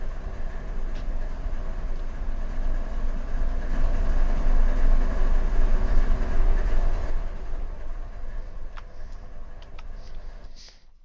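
A freight train with SD diesel locomotives rolls past on rails in a railroad simulation, giving a continuous rumbling roar with faint clicking wheels that swells in the middle and fades, then a few sharp metallic clicks near the end.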